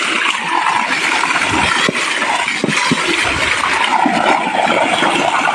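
Water gushes steadily from the 3-inch delivery pipe of a solar-powered AC/DC open well pump, a loud, close, continuous rush with splashing.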